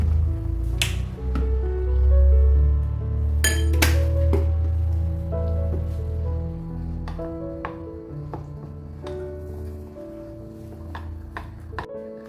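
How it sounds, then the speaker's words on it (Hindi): A spoon clinks against the sides of a glass bowl as custard powder is stirred into milk, giving repeated bright taps and scrapes in an irregular rhythm, close and fairly loud, with no talking. "इसमें हम दूध डालेंगे और इसको मिक्स करेंगे"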